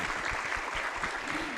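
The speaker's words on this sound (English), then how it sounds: "Can we give a round of applause for our team in Malaysia?" An audience claps for a competition team at an international seminar, a short, moderately loud burst of steady applause.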